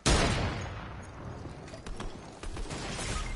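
Sniper gunshot in the Fortnite video game, a sharp loud crack at the start that decays into a busy stream of game sound effects and faint scattered clicks.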